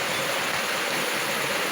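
Liquid leaks and pours from an LPG tank in a steady, rushing hiss, like a stream of running water, continuous and fairly loud up close.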